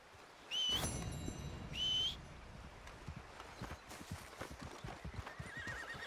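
A horse in Red Dead Redemption 2 arrives with hooves clopping after two sharp whistles, neighing loudly up close, then its footsteps continue softly, no talking.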